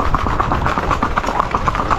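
Horse hooves clip-clop rapidly and steadily on a beach, a dense, loud run of hoofbeats with a continuous rumble underneath and no voices.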